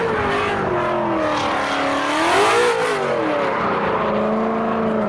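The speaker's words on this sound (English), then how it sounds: "There's a Mustang that's properly on it. I think he's trying to blow his tyres." A modified Ford Mustang at the SEMA 2023 show revs hard in a drifting area as its driver tries to blow the tyres, the engine note swelling and falling in loud, sustained sweeps nearby with no speech.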